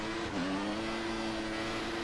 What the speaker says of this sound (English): I'm just revving the engine so much, just trying to find the right amount of throttle as Raikkonen pits